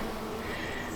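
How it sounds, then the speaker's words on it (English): Bees forage on borage blossoms in a spring urban garden, making a brief, unbroken buzzing hum close by, with no voices. "Look at those bees."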